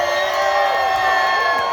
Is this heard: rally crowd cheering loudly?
yes